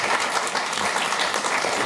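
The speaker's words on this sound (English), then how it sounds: "We can applaud." An audience at a panel discussion applauds steadily, a dense wash of clapping from many hands, loud and continuous throughout.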